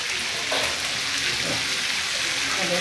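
Chickpeas and potatoes frying in a pan, a continuous dense close sizzle with a few faint stirring touches, loud and even throughout.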